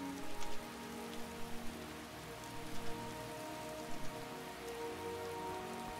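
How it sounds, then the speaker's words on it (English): Steady rain hisses and patters across surfaces in Skyblivion, a continuous even wash of drops with faint tonal background music underneath and no voices. "This is not nice to look at, all the rain."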